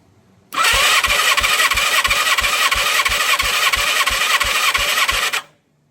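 A 1987 Yamaha FZR1000 engine cranks over on the starter for about five seconds during a cylinder 3 compression test. It gives a steady, loud whirring drone with even rhythmic compression pulses and does not fire.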